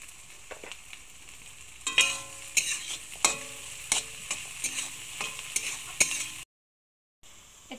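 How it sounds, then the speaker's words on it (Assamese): Potatoes fry in a pan as a spatula stirs them with a run of regular scraping strokes over a steady sizzle. The sound cuts out briefly near the end. "এতিয়া আলুখিনি অলপ সময় মই ভাজি লম সিদ্ধ হোৱাক লাগি"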